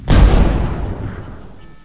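A reactor explodes in the video game Bionic Dues: one loud, sudden blast with a deep booming body that rolls off into a long fading rumble, heard alone.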